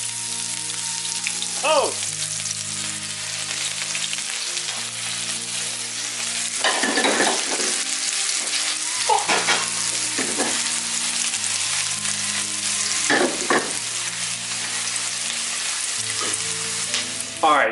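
Onions, green onions and garlic fry in a hot pan with a loud, continuous sizzle, punctuated by stirring scrapes and a brief exclamation.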